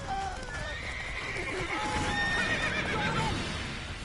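Roach, Geralt's horse in The Witcher 3, whinnies with several rising neighs over a steady trot of hooves, loud and close throughout.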